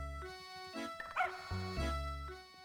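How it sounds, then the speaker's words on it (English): In the Professor Layton video game, a dog gives a couple of short, yippy barks over soft, tinkling game music with sustained tones. "There's a Dog."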